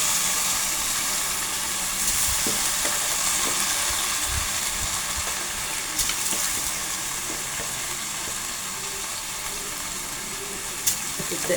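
Rice frying in a pot for Egyptian yellow koshari gives a steady broad sizzle with occasional stirring clicks and scrapes, low and continuous.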